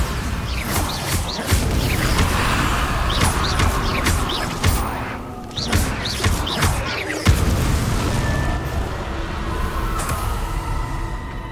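Bombarda spell explosions in Hogwarts Legacy, a dense run of booming blasts, whooshes and crashing debris over a continuous loud game soundscape, with sharp impacts near the middle.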